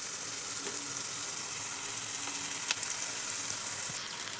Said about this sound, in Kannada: ಈಗ ಇದಷ್ಟು ಚೆನ್ನಾಗಿ ಫ್ರೈ ಆಗ್ಬೇಕ್ರಿ